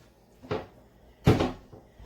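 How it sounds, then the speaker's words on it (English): Two distinct knocks from a cupboard door being pushed open by a cat, a softer bump followed by a louder clack a moment later, close by in a quiet kitchen. "My cat tries to open my cupboard doors all the time."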